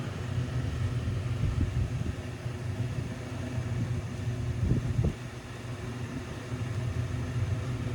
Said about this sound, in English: Got my fan turned on.